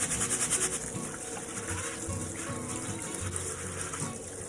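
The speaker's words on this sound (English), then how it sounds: "And I get the cold water going." Cold water gushes steadily from a tap, a continuous splashing rush close by, with a few clinks of rice being handled underneath as it is washed.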